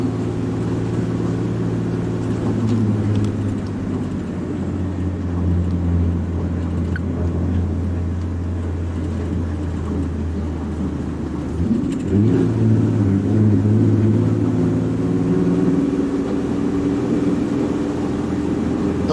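A car engine labours in second gear up a steep road near the Yarrabah community outside Cairns, Queensland, holding a steady low drone that rises in pitch as it pushes harder toward the end.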